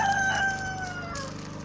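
Chickens cluck and crow nearby, a rooster's drawn-out call standing out over a steady background of farmyard fowl.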